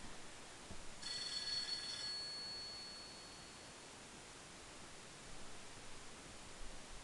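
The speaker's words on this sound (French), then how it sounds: "il y a le téléphone qui sonne" A telephone rings once in a quiet room, a short bright electronic trill lasting about a second and a half before fading, followed by soft background hiss and no speech.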